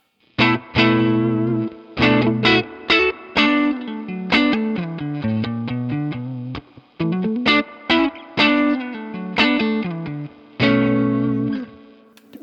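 An electric guitar played through an amp with a touch of spring reverb and no pedals sounds a series of clean chords and single notes. The phrases ring out loud and close and stop abruptly between strums.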